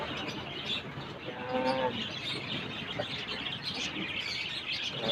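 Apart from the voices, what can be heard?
racing pigeons in a pet shop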